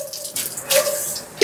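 Water is poured over the roof luggage carrier of a Force Gurkha 5-door BS 6.2, a short close splashing burst that swells and recedes, with no talk.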